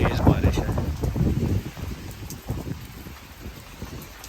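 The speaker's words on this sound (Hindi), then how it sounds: "ये बड़ी तेज़ बारिश है।" Heavy rain pours down steadily in a UK village, a dense, continuous patter and wash of water heard up close while a person talks over it.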